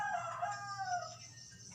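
A rooster crows once, a drawn-out cock-a-doodle-doo heard at moderate distance with no other sounds around it.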